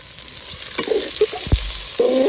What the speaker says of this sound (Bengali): এবার দেব আমি আদা রসুন যেটা খ্যাত করেছি ওইটা দেব